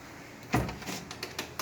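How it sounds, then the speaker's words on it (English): The front door of a house in a city guest house opens with a single thump and rattle, followed by a few soft clicks, close and fairly quiet. "And we're gonna go in the door."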